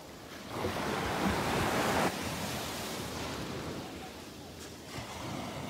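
Gulf surf rolling onto the sand at Delnor-Wiggins beach on a sunny morning, a broad rushing wash that swells loud for a couple of seconds then settles into a softer continuous hiss, with wind buffeting the microphone.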